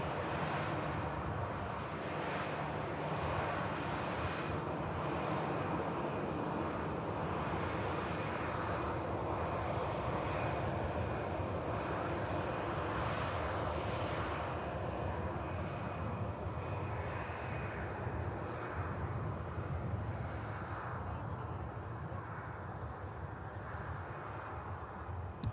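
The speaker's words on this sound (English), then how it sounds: "EasyJet just arrived in from Amsterdam." An easyJet airliner arriving at Manchester Airport from Amsterdam gives a faint, steady engine rumble and hiss with slow swells, heard at a distance throughout and without speech.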